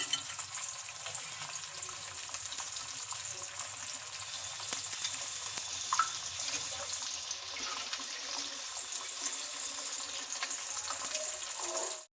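Okra crackles and sizzles in hot oil in a pan, a dense, steady frying hiss that runs for about twelve seconds with a few faint clinks and no voices.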